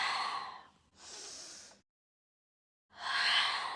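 Three slow breaths during a Pilates mat exercise: two breathy exhales in close succession, a pause of silence, then a final longer, stronger exhale, close and clear with no talking.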